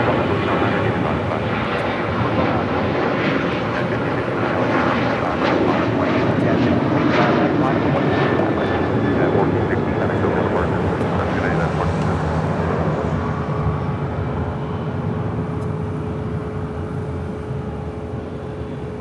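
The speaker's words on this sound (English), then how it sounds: "That is United Airlines Flight 1977, the 737 MAX 9." A United Airlines Boeing 737 MAX 9 jet at LAX gives a continuous rumbling engine roar with faint whining tones, steady throughout, while people talk nearby over it.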